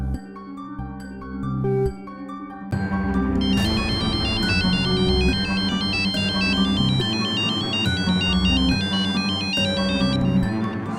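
A phone call rings unanswered, a loud melodic ringtone that starts softly and then plays at full volume, repeating steadily without any voices.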